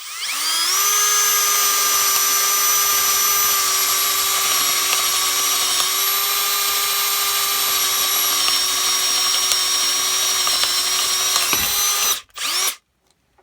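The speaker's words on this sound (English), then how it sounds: "We're going to run it through the 2x4 with a hand drill" A hand drill with a spade bit whines at a steady high pitch for about twelve seconds as it bores through a 2x4 of wood, then cuts off abruptly.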